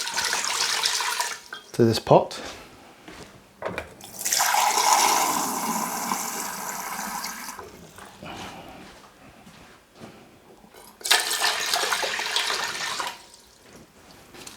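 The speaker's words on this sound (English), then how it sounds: "we're going to add a litre of water" A litre of water pours into a large cooking pot for Chinese soy sauce chicken, in two steady rushing bursts separated by a pause, with a voice talking between them.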